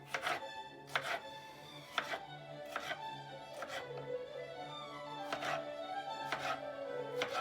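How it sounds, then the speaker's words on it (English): Knife chopping tomatoes for pineapple pico de gallo on a cutting board, with sharp, evenly spaced chops about once a second, close and fairly quiet, with no talk. "And that's how I cut the tomatoes."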